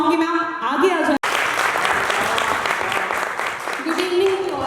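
Audience applause fills a launching ceremony for the company Auretics, a dense, steady clapping crowd lasting a few seconds, with a person speaking just before and just after.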